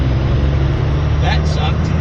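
A 1996 12-valve Cummins diesel pickup hauls a 37-foot camper uphill in first gear with a deep, steady low rumble, heard from inside the cab. A voice talks briefly over it.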